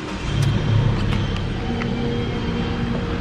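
A 2021 Ford Ka 1.0 SE Flex with a manual gearbox idles steadily, a low engine rumble close by, with a few faint clicks over it and no talking.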